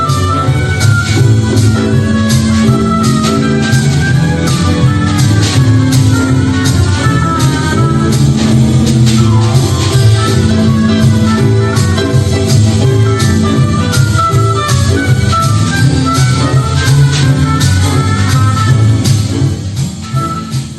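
A piece played with classical instrumentation, a dense full ensemble sounding continuously and loudly throughout, with layered sustained tones and steady rhythmic movement.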